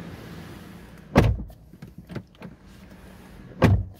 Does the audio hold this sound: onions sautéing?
no